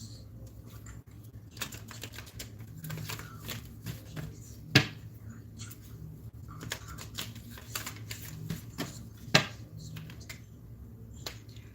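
Tarot or oracle cards are shuffled by hand in a run of light, dry clicks and riffles, with a couple of sharper snaps standing out, close and quiet, with no talk.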